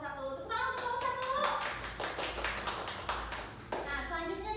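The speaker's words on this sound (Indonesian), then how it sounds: "Tepuk tangan untuk kelompok 1." Students in a classroom clap for a student group after a correct answer, steady rhythmic hand claps from several children close by, with voices talking over the clapping at the start and end.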